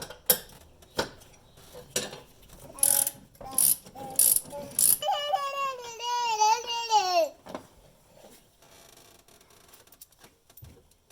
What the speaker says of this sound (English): I'm just gonna need to attach there and then hold the other side and just start loosening